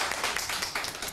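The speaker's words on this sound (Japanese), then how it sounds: "皆さん拍手を。" A short burst of applause from a group, steady clapping throughout with no voices standing out.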